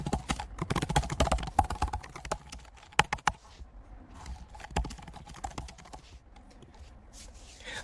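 Keys on a computer keyboard clatter in quick irregular taps and short flurries, close and fairly clear, with quieter gaps between bursts and no talking.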